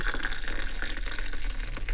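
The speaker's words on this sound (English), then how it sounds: "And then I pour the nearly boiling water, which is very difficult when you're trying to film," Nearly boiling water poured from a kettle into a mug, a continuous bright trickling splash that stays steady and close for the whole pour.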